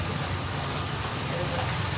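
Rain pours down at home while a family bathes in it, a dense, constant hiss of heavy rainfall close by, with voices faintly talking underneath.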